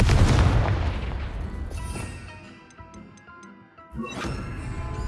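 Bombarda and Confringo explosive spells going off in a Hogwarts wizarding video game: a heavy boom at the start that rings and decays, a few ticking sounds, then a second sharp blast near the end.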